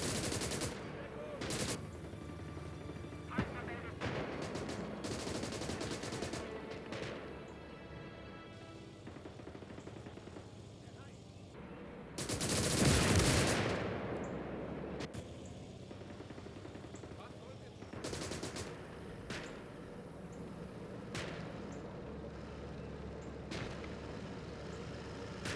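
Bursts of machine-gun fire in the WWII strategy game Call to Arms: Gates of Hell, with rattling volleys and a loud roaring blast midway, mixed with other battle noise and someone talking over it.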